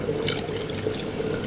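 Water poured from a cup over about a cup and a half of vermicelli in a home kitchen, a steady close pouring and trickling splash that runs throughout.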